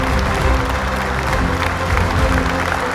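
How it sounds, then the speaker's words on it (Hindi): A studio audience at a family Bible quiz final gives the finalists dense, steady applause, loud and continuous over the whole moment with some crowd murmur mixed in. "जोरदार तालियां हो जाए हमारे पहले फाइनलिस्ट के लिए।"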